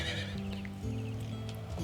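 A horse gives a clear, close whinny amid the din of a Empire: Total War battle, its wavering neigh rising above low rumbling battlefield noise.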